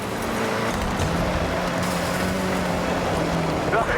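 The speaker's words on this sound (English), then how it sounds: "You can hear the engine has more power." A powerful turbo rally car engine in the video game Forza Horizon 6 drones steadily at high revs, a continuous roaring hum with a voice briefly audible over it.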